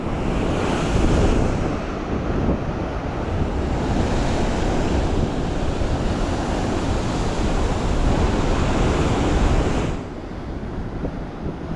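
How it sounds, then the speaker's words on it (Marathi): A rough sea pounds the shore with a loud, continuous roar of crashing surf mixed with heavy wind buffeting the microphone, close and unbroken, easing slightly near the end. "तर समुद्रावरती आलात ना आता तर सेफ्टी महत्त्वाची"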